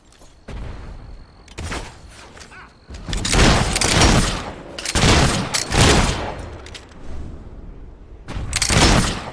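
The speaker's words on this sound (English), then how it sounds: "We're under fire!" Gunfire in the video game Fable 3: repeated loud volleys of shots in clustered bursts with brief gaps, close and forceful, sounding like several guns firing together.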